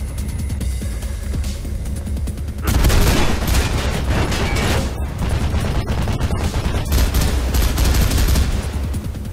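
Gunfire in the first-person game Mirror's Edge, a steady dense stream of shots that grows louder and fuller partway through and keeps going, with no talking.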